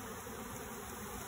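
A honeybee swarm being raked into a hive gives off a dense, steady buzzing drone, constant and moderately faint throughout a brief moment with no talk.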